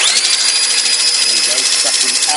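A Ryobi R18BS cordless belt sander runs steadily on a floor, a constant high-pitched motor whine with belt hiss, loud and close, with light shifts in tone as it works the surface.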